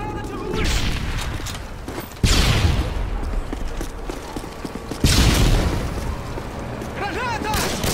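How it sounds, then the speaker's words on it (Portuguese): Flash grenade and gunfire in Call of Duty Modern Warfare 2, with several loud sharp bursts and booms standing out over continuous combat noise and mechanical clatter. "Lançando uma granada de luz."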